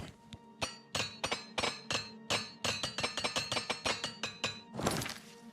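Repair hammer striking a weapon in Oblivion Remastered, a rapid series of sharp metallic clinks in an uneven rhythm, close and loud, ending in a brighter crash-like hit.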